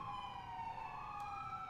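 An ambulance siren in the video game LCPDFR sounds with a sustained wavering tone and bright harmonics, quiet and continuous, with no talking.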